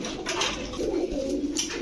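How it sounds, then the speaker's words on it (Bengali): Afsan grizzle racer pigeons coo softly and continuously, a low throaty burble from a few birds close by, with light background rustling. "সব রেসার কবুতর আফসান গিরিজেল"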